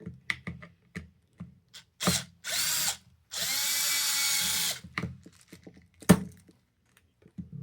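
A brushed Snap-On CTS761 3/8-inch cordless impact wrench drives screws in loud, close bursts, mostly brief whirs plus two longer sustained runs, separated by clicks and handling knocks.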